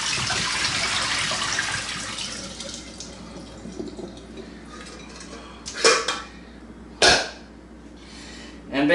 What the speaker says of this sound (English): So let's go ahead and drain these again.